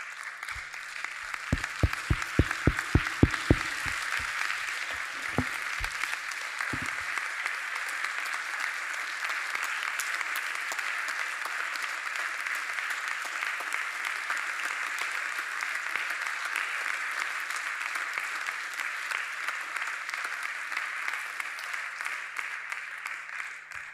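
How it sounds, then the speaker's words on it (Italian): Applause at an Italian academic event honoring Marco Maria Gazzano, a sustained, even wash of clapping that runs long, with a few sharp close knocks near the start. "ma è giusto continuare l'applauso se volete."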